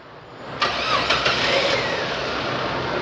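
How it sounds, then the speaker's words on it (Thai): A car engine cranks and fires up during a cooling-system check for overheating, a brief starter whir followed by a steady close idle with a rushing roar and no talking. "ต่อไปเราก็สตาร์ทเครื่องเลยนะครับสตาร์ทเครื่องครับ"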